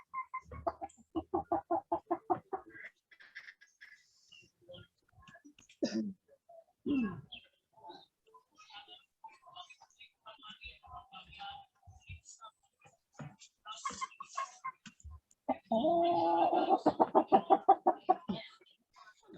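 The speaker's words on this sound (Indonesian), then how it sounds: "Aduh, suara ayam tuh" Chickens cluck in bursts near an indoor online classroom presentation, with quick runs of clucks, a pause, and a louder cluster near the end; faint human sounds mix in between.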